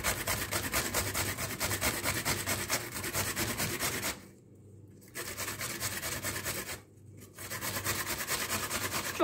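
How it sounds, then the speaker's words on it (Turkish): Red beetroot rubbed against a hand grater in quick, steady scraping strokes, close and fairly loud, with two short pauses between bursts; no talking. "Onu da törpüledikten sonra hemen suyunu sıkacağız."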